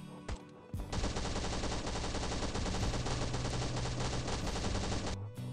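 A sustained, dense stream of turret gunfire in the survival video game Last Island of Survival, steady rapid shots running for several seconds after a couple of isolated reports.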